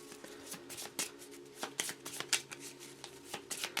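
Marvel Champions playing cards shuffled by hand in a steady run of crisp, riffling snaps and soft slides, close and fairly quiet, with no talking.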